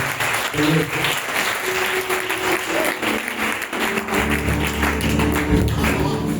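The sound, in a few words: audience applauding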